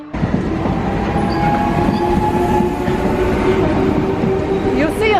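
A train in India rumbles along the rails with a steady roar and faint clatter, with some quiet voices in the background, heard from a general-class carriage.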